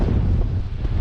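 Strong gusty westerly wind of 32 to 33 mph batters the microphone on a River Mersey beach during sea fishing, a loud, continuous, roaring rumble with no break and no voices.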